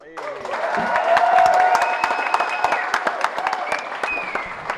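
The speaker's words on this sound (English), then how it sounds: "And one final round of applause for our special guest, Jack Pattillo." Audience applause for a special guest at the close of a live podcast recording in a gaming lounge, a swelling round of clapping and cheering that peaks early and then tapers into scattered claps.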